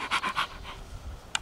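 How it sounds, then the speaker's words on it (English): A dog pants in quick, breathy bursts, several huffs close to the listener, then trails off with a faint sniff. "I love it when you can hear him panting"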